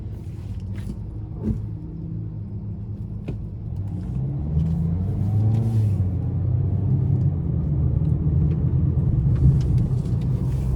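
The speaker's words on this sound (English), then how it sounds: "So starting the test drive in this Ford Maverick here, love the all-wheel drive." Cabin road noise from a 2025 Ford Maverick XLT with the 2.0-liter turbo engine and all-wheel drive, driving on the road: a steady low rumble of engine and tires that grows slightly louder, with no talking.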